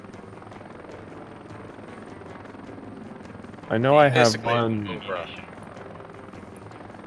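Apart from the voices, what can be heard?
helicopter flying, from video game Heliborne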